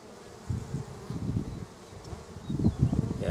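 Honeybees buzzing at an open hive during a summer inspection, a dense low insect drone that rises and falls, swelling louder toward the end as bees move close.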